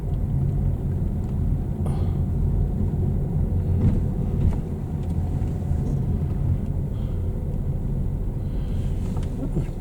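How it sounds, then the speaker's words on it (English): Cars move through a McDonald's car park near the drive-through, a steady engine rumble and low traffic drone running continuously from start to end with no voices. "Plenty of cars in the car park."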